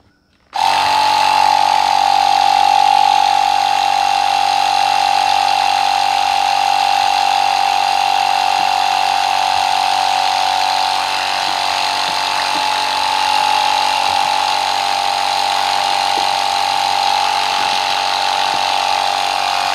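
An electric air pump whirs steadily and loudly as it inflates a foldable portable ice plunge bath tub, a constant droning hum starting abruptly and running unbroken to the end.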